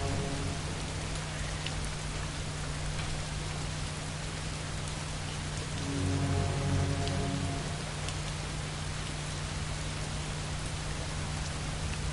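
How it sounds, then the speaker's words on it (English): Steady rain falls on surfaces outdoors, a dense even hiss of drops that holds for the whole stretch with no voices. "Oh, here comes some rain."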